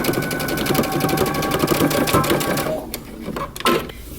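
A sewing machine stitches the facing of a long coat, with a rapid, steady needle rhythm close up that slows and stutters into a few short bursts toward the end.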